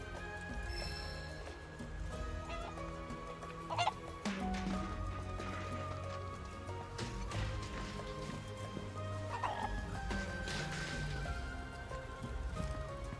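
Chicken clucking in the Final Fantasy 7 Rebirth game, set against a busy music and ambience bed, with a few brief cluck bursts standing out near the start and again later.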